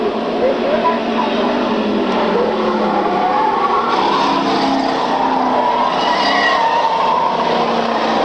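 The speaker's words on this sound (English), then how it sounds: "The 43 automobile still slipping and sliding down the front straightaway." The No. 43 race car slides along the front straightaway during a 1995 short-track race, its engine roar and scrabbling tires making a loud, steady wash of noise that fills the whole stretch.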